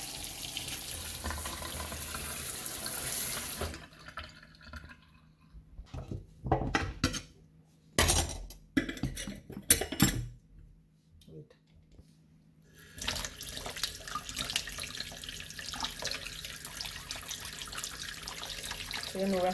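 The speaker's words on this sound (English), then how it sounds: "So you know we have to wash your ginger really good." Running tap water pours into a sink as fresh ginger is washed, a steady splashing stream broken midway by brief clatters of dishes and cutlery, then flowing again.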